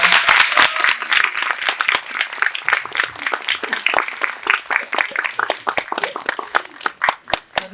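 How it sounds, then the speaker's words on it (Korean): Audience applause welcoming director Kim Tae-yong on stage for a guest visit after a screening of the film Late Autumn, a dense burst of many hands clapping that slowly thins and tapers off toward the end. "큰 박수 부탁드립니다"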